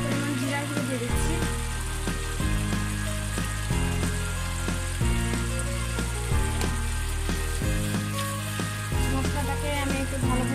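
A spice paste of salt and ground cumin sizzles and is stirred in a pan for a sand goby curry. The steady frying hiss runs beneath loud, rhythmic background music.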